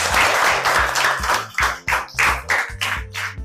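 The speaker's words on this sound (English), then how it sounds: "Clap for yourselves." Children at a reading competition clap for themselves, a loose patter of separate claps with uneven rhythm and dips in loudness, ending in sparser, scattered claps.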